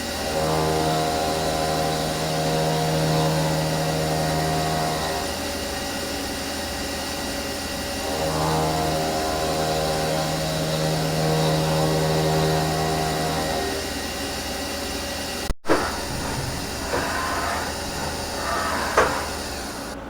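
A $1,025 CNC milling machine runs in a small machine shop, giving a loud steady mechanical whine with a sustained tone that stops and restarts, then a few sharp clunks near the end.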